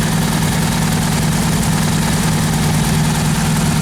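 A 1776 engine idles during camshaft break-in, a loud, steady low rumble with an even, unbroken throb and no pauses.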